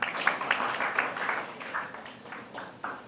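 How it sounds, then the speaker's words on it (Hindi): An audience at an Ayodhya Ramlila event in Lucknow breaks into applause, a dense wash of many hands clapping at moderate distance, lasting a few seconds and fading slightly toward the end. "इनके लिए एक बार जोरदार प्लीज तालियां तो बनती"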